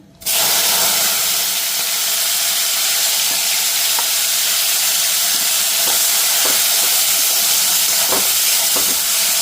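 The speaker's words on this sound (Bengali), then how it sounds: "এদিকে আমার তেল গরম হয়ে গেছে। তো এখানে টমেটো আর পেঁয়াজ কুচি নিলাম, তো দিয়ে দিই এখানে।" Chopped tomato and onion hit hot oil and fry with a loud, steady sizzle that starts abruptly and holds, with occasional stirring clicks and pops over the top.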